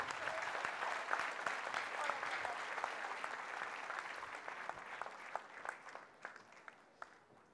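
A crowd applauds steadily at a collective wedding ceremony in Boca del Río, with dense, moderately distant clapping that holds for several seconds and then thins into scattered claps toward the end.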